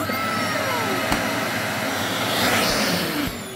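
A discarded vacuum cleaner recovered from the trash runs in a suction test, giving a loud, steady whining roar with little change throughout.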